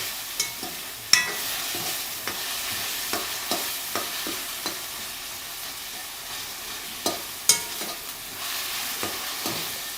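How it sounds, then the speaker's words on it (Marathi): Tomatoes and onion fry in oil for a prawn masala, a soft steady sizzle under repeated scraping stirs of a spatula against the pan, close and without talk. "टमाटे आणि कांदा परतून घ्यायचं तेलात"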